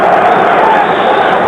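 Loud, dense crowd roar at a world amateur boxing championship bout, a continuous wall of cheering voices close and filling the arena.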